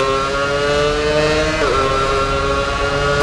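An F1 car in a racing video game brakes hard from top speed and drops through the gears for a tight chicane, its loud, close engine whine sliding downward with a quick blip midway, no voices.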